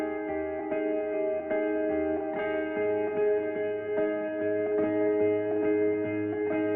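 Ambient music production piece with sustained layered synth tones soaked in delay and reverb, soft repeating notes echoing and smearing into a steady wash at moderate level, no talking.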